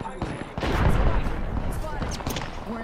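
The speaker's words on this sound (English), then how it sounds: "I think we're getting shot from both directions." Gunfire in Apex Legends ranked play, dense overlapping shots and bursts from more than one direction, loud and continuous, with a player's voice talking over the fight.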